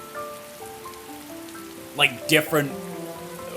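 Rain falls in the Atelier Ryza 2 video game as a steady patter under soft in-game music, with a few louder splashy bursts near the middle and brief talk over it.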